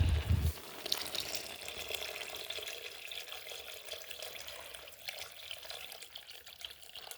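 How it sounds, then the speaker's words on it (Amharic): Water pours from a tap into a cooking pot of spiced food, a faint, steady trickle and splash that runs for several seconds after a brief louder start. "አሁን ትንሽ ውሃ ልከልስበትና"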